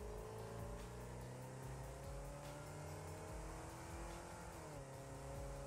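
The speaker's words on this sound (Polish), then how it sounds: "Czemu słychać, jak samochód przyspiesza?" A car engine in the video game Satisfactory revs and accelerates steadily, its pitch climbing and shifting in a continuous drone, with no talking over it.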